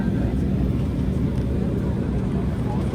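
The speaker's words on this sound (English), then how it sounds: "By airplane, not train." Steady, loud broadband roar of an airliner in flight between Venice and Vienna, a continuous engine and cabin drone filling the whole clip without breaks.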